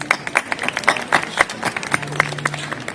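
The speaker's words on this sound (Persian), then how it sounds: "با تشویقاتون به استقبال ایشون میریم" A stage audience claps in welcome as the guest, Reza Soleiman Nouri, is invited up, a dense patter of hand claps sustained for several seconds at moderate loudness.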